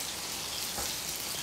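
Bacon strips frying hard in a pan with fat spattering, a steady close crackling sizzle that runs without a break.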